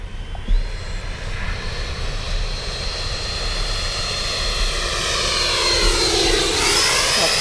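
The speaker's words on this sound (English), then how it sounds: "Landing flaps. Bring her by slow." An FMS 70mm F-18 RC jet with landing flaps down makes a slow pass, its ducted-fan whine building steadily and then sweeping downward in pitch as it passes close and moves away.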